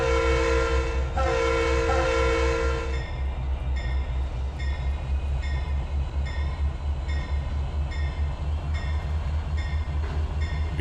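An SD60 diesel locomotive in Trainz 2022 idles with a steady, loud engine throb and a horn blast at the start, with clanking rail noise running throughout.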